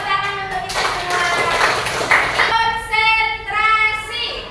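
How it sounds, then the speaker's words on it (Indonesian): A class claps together in a rhythmic pattern, bursts of hands interleaved with children's voices chanting or singing, loud and close in a classroom. "Tepuk tangan untuk kita semua."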